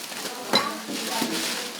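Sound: dishes being handled while sorting donations

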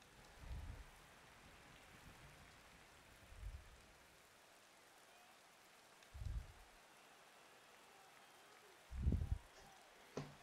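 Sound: rain falling on the race track in the video game MotoGP 20

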